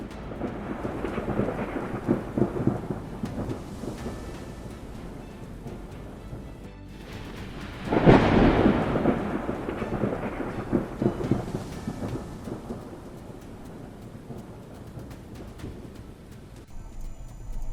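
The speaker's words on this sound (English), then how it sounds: "Spider lightning illuminated the sky above Harrodsburg, Kentucky." Thunder rumbles during a spider lightning storm over Harrodsburg, Kentucky, with low rolling booms and a sharp crack that surges loudly midway before fading back into steady rain.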